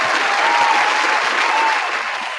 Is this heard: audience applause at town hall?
yes